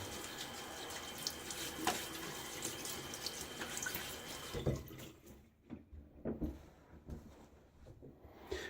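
Tap water runs into a sink while a face is wetted for a wet shave, a steady close splash that breaks into intermittent splashing and dripping as hands cup the water.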